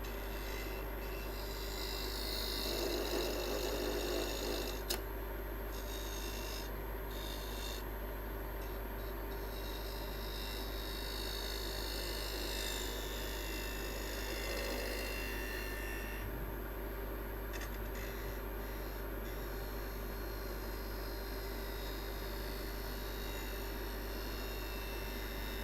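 A wood lathe spins a workpiece while a gouge cuts into it, producing a steady, continuous rasping hiss over a constant motor hum with occasional scraping variations, and no voices.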